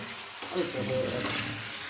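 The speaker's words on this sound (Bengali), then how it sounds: "তেলাপিয়া মাছ ঝোলে দিলেই প্যাট প্যাট প্যাট প্যাট করে" Tilapia frying in hot oil, a steady close-up sizzling crackle, a continuous frying hiss with a few small pops.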